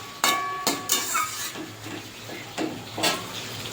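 Spice paste with potato and ridge gourd is sautéed in a pan for a Bengali katla fish curry, giving a soft sizzling hiss broken by sharp scraping stirs and clinks of a spatula.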